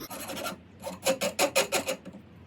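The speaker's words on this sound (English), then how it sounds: "I'm gonna deburr this one because it's gonna keep my stencil good." A file rasps along a metal truck bed stiffener for a Tacoma, deburring its edge in close, crisp scraping strokes: a short burst, a pause, then a quick run of about six even strokes.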